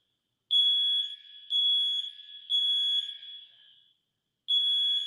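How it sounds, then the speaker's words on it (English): A building fire alarm sounding outside: loud, piercing electronic beeps in a repeating pattern of long tones with short gaps, clear and alone. "that's the fire alarm outside"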